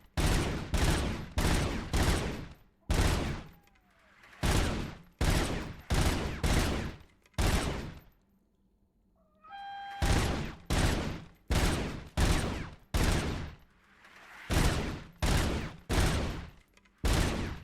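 Rapid bursts of gunfire in the video game Robocop: Rogue City, loud and sharp shots firing in quick regular succession, with a short quiet pause midway before the shooting resumes.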